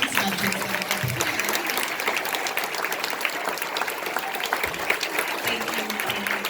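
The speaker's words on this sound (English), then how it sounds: "Let's give a final round of applause for these veterans that are here." An audience at a salute to veterans and active military gives a loud, dense round of applause that holds steady throughout, with faint voices mixed into the clapping.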